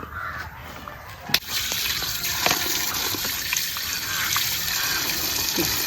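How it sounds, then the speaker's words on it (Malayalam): Water gushes and splashes steadily while freshly harvested arrowroot tubers are washed clean of soil and mud outdoors, with crows cawing faintly in the background. "മണ്ണും ചെളിയുണ്ട് ഒന്ന് കഴുകി വൃത്തിയാക്കാം"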